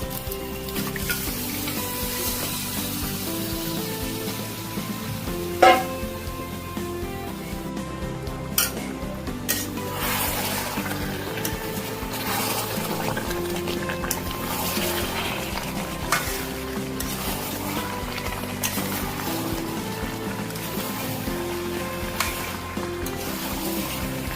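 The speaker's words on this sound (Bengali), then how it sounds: "সেদ্ধ করা মটনটা দিয়ে দেবো।" Boiled mutton stir-fried in a hot oily pan for mutton kasha, a steady close sizzle running throughout with spatula scrapes and occasional sharp clinks against the pan, no voices.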